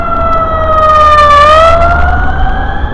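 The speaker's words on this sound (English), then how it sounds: "See what's coming. That is an ambulance." An ambulance siren wails past on an Indianapolis trail, loud and close, its rising and falling tone dipping as it goes by over a steady traffic rumble, with no talking.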